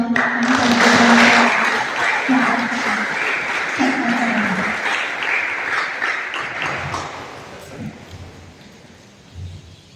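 Applause at a Khashaba Jadhav Medal Day ceremony: a loud burst of crowd clapping that runs under some talk and chatter, then thins out and fades over the last few seconds.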